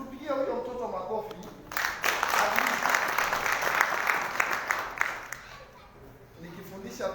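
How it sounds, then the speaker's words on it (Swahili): A church congregation at a Sunday service breaks into warm applause for a child, a dense burst of clapping that swells for about three seconds and then fades back toward quieter room sound. "Kila kitu tupigie huyo mtoto makofi."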